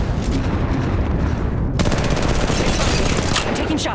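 Gunfire from the mobile battle royale game Apex Legends Mobile, with loud rapid bursts of shots that turn into a dense, steady volley of cracks partway through.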